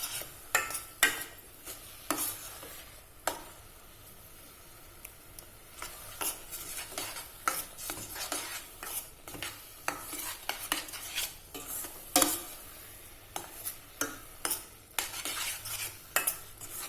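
A walnut filling spiced with about ten cloves cooks over medium-low heat in a pan, with a spoon scraping and stirring in repeated clacks and scrapes over a soft sizzle, close and fairly quiet, no talking.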